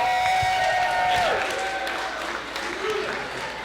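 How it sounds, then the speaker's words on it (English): Applause and a few cheers from wedding reception guests welcoming the best man to the microphone, a steady roomful of clapping with voices mixed in. "Give him a big round of applause"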